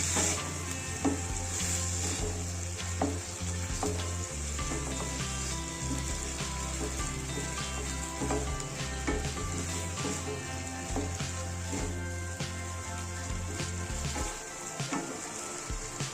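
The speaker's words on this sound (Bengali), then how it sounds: "এবার অল্প পরিমাণ একটু জল দেবো আবারও ভালোভাবে কষিয়ে নেব" Raw banana, potato and shrimp curry cooking in a pan gives a steady close sizzle with repeated scraping stirs and clinks throughout, a little water splashing in near the end.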